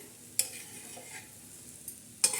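A spatula stirs chana dal chutney with onion, coriander, green chillies and garlic in a pan, giving soft scraping and a few sharp clicks against the metal over a faint sizzling hiss.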